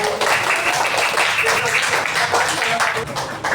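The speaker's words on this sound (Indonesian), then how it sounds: "Jadi tepuk tangan untuk kelompok A." Classroom applause for a student discussion group at a school lesson, a steady continuous clatter of many hands filling the whole stretch, with voices mixed in underneath.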